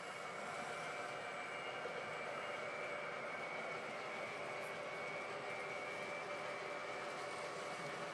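A steady, faint rumble of model trains running continuously, with a soft mechanical hum and no voices.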